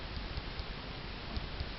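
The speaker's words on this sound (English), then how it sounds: "It's raining heavily now." Heavy rain falls as a dense, steady hiss with scattered soft ticks of drops hitting surfaces, continuous and fairly close, with no one speaking.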